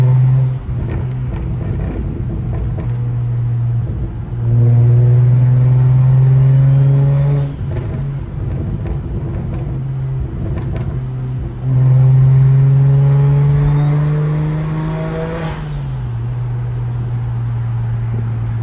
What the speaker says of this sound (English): I'll let you guys listen to the car.